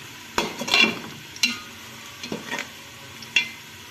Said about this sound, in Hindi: प्याज ब्राउन होना स्टार्ट हो गई है